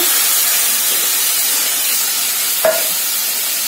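Water poured into a hot pan of sautéed vegetable stalks for a Bengali curry raises a loud, steady sizzling hiss of steam, with a brief sharp splash partway through.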